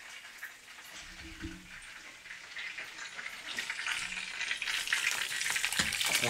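A hamburger patty sizzles in hot oil in a pan, a steady crackling hiss that grows louder over several seconds, close by and with no talk.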